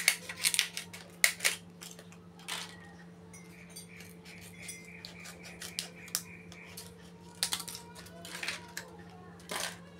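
Scissors snip through a large Aqua plastic mineral water bottle in short, irregular crisp cuts and crackles, close and fairly quiet over a steady low electrical hum, with no talking.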